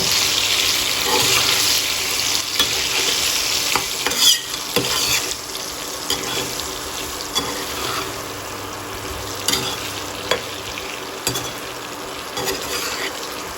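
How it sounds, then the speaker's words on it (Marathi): Stuffed eggplants sautéed in oil without water, sizzling steadily up close while a spoon stirs and scrapes the pan at intervals. "तेलावरतीच ही वांगी छान अशी परतून घ्यायची आहेत"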